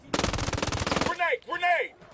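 Rapid automatic gunfire from a PS4 shooter video game rattles for about a second, then brief voices follow with a processed, tonal character.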